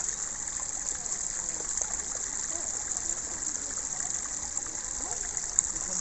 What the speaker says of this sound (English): Here's that lake I was videoing through the trees a moment ago with the waterfalls, etc.